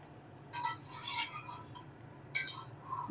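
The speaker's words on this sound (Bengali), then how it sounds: "একটু আবার ভালো করে নাড়িয়ে চাড়িয়ে নিলাম।" A spoon scrapes and clinks against a pan of crab curry in two short bursts of stirring, close by and moderately soft, with quiet gaps between.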